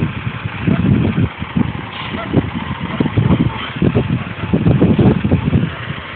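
A semi truck idles and rumbles while backing up to a Blackhawk lowboy trailer at a road milling site, its engine a steady, fairly close drone with uneven surges throughout.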